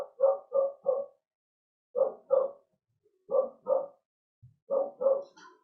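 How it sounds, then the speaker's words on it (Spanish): Nearby dog barking in four short bursts of two or three sharp barks each, separated by brief silences, loud and clear with no talk over it. "Disculpen si escuchan mi perro que está acá cerquita"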